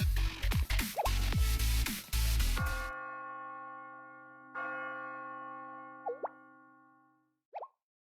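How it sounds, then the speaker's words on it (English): Bell tower bells ring in the Blue Archive game. A few soft plops come first, then long resonant bell tones that linger and slowly fade, with another bell strike and a couple of brief chimes near the end. "It's the nameless bell tower. It's ringing."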